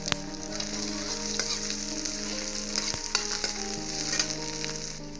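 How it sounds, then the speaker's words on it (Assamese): Whole tempering spices sizzle in hot oil while being stirred for a mung and masoor dal, a close, steady frying hiss broken by occasional sharp clicks of a spoon against the pan, with background music and no speech. "আৰু এতিয়া দিম ফোৰণ আৰু ভালদৰে লৰাই দিম।"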